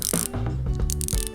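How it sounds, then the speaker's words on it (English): Tiny finger-sized ratchet from a Japanese tool set clicking rapidly in short bursts, a sharp close-up pawl rattle that is loud and alone. "let's test the ratchet sound"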